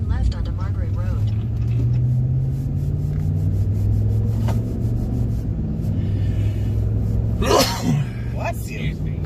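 A single sharp sneeze bursts out near the end inside a moving car during a live storm chase in Pennsylvania, over a steady road rumble and ongoing talk among the occupants.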